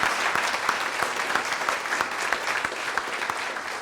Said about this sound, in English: let's give a round of applause to all our new members